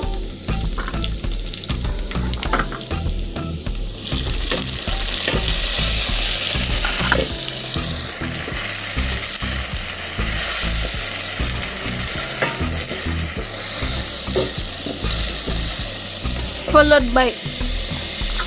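Tomatoes dropped into onions frying for a pumpkin potato curry, setting off a loud, continuous sizzle with stirring and scraping in the pan.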